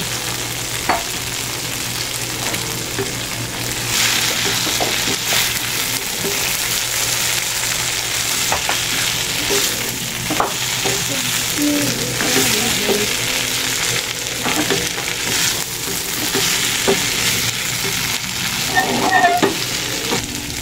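Pork frying in a pan for tokwa't baboy, a loud, continuous close sizzle with occasional scraping and clinking as the meat is stirred, running steadily without voices.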